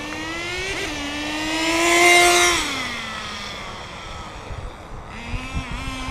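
A Redcat Tornado S30 RC car at full throttle, a whining motor that climbs in pitch to a loud peak, then fades as it bogs down in tall grass, with faint rustling near the end.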